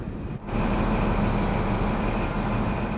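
An Intercity 43 train runs steadily on the Midland Mainline in a train simulator game, a loud continuous rumble with a brief dip near the start, then a constant engine and rail drone with no talk.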